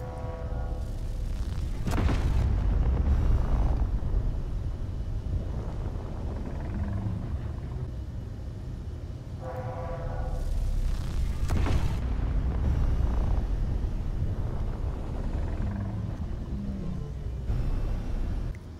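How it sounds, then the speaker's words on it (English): Railgun shots striking a ship in the video game Space Engineers. Deep, heavy booming impacts land roughly every few seconds, each one a sharp crack followed by a long rumbling roar, over a steady low mechanical drone. "this is what used to happen to my ship when it got shot by railguns"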